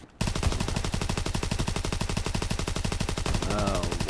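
Sustained rapid automatic fire from a gun in the shooter game Call of Duty WWII, a loud, close, evenly spaced stream of shots that starts abruptly and runs continuously to the end without pause.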